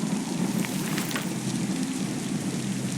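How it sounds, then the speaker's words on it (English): Steady rain pours throughout a video game scene in The Picture in the House, a dense, even hiss of falling drops with no voices. "I can't carry it with this rain."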